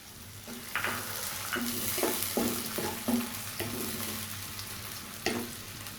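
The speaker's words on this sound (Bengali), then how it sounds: "পেঁয়াজ এবং রসুনটা এখন ভাজা হয়ে গেছে এখন আমি এখানে দিয়ে দিব টমেটো ব্ল্যান্ড করা টমেটো" Blended tomato hits hot oil with fried onion and garlic and sizzles steadily, with a run of scraping stirs and spoon knocks against the pan up close.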